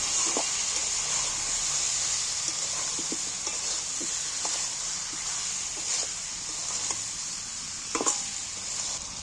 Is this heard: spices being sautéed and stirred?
yes